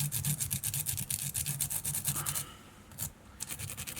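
Velcro on a lollipop stick rubbed briskly over an Ice Dub fly body, a close, rapid scratchy rasping in steady strokes that pauses briefly and resumes.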